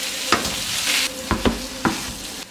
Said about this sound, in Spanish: cuando vimos que la sepia ya está un poco hecha, le añado los 400 gramos de arroz y voy removiendo